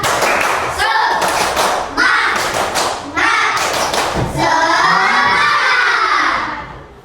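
A primary school class claps a quick rhythmic cheer clap, with thumping beats and children shouting and cheering, then a longer burst of excited voices.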